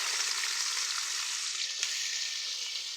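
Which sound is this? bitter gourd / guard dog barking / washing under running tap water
bitter gourd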